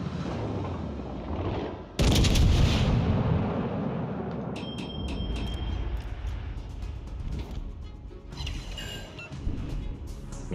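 The guns of the Carnot warship fire in a naval battle video game: one heavy boom, then a long rumbling decay, with faint clicks and tones from the game afterwards.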